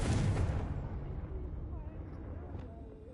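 A Confringo spell explodes in Hogwarts Legacy with a loud booming blast that decays into a low rumbling tail, and a voice is faintly present.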